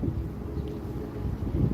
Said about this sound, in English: Sounds a little windy to me, but I don't know how that interacts with a microphone.